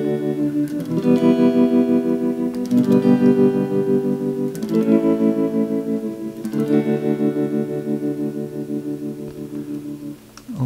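Electric guitar chords ring out through a Vox Mini 3 amp, their volume pulsing rapidly and evenly in a wavering tremolo as new chords are struck.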